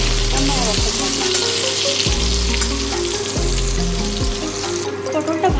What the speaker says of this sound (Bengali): পটলটা ভাজা হোক, ততক্ষণে আমি একটা মশলা রেডি করব।